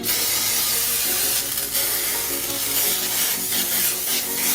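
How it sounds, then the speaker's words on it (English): Close, loud hissing of an aerosol vegetable oil spray onto cake pans in continuous bursts, with slight breaks as the can is moved. "I'm just going to add some vegetable spray to the bottom of these lightly."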